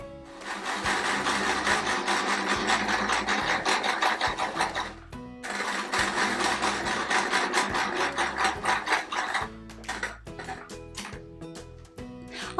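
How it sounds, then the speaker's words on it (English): A sewing machine runs zigzag stitches in brown cotton thread around appliqué pieces of a patchwork quilt square, two long fast mechanical runs separated by a brief pause, then shorter stop-start bursts, close and clear. "I'm going to be stitching around Mittens pieces using this brown cotton"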